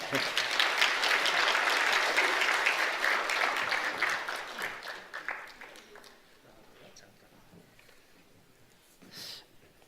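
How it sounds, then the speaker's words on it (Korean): Church congregation giving congratulatory applause, a dense burst of clapping that fades after a few seconds into sparse claps and a quiet room with faint voices. "축하 박수하겠습니다"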